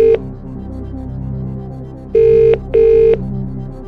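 A telephone in the Who Wants To Be A Millionaire UK PC game rings out twice during a phone-a-friend call, with two loud electronic ring bursts over a low, steady music bed.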